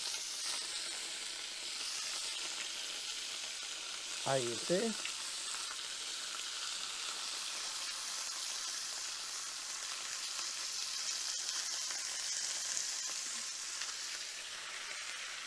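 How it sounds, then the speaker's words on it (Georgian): Meat sizzles steadily in a heated pan, a soft continuous frying hiss that runs throughout, with a brief voice speaking partway through. "ტაფარი გაცხელებული. და ხორცს დაუყრით ზედ."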